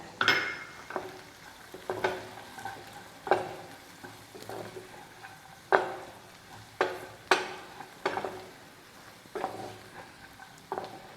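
Chili powder fries in a pan with a quiet sizzle while a spoon stirs it, giving a series of close, regular scraping strokes about once a second.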